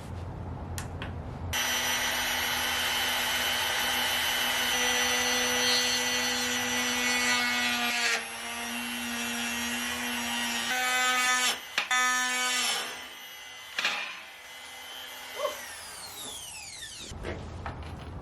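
A power tool bit cuts plywood during a DIY houseboat build, a loud, steady high-pitched whine with buzzing overtones that dips and catches as the bit bites, then stutters and drops off in bursts near the end.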